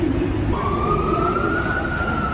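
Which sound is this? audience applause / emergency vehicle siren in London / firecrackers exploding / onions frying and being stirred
emergency vehicle siren in London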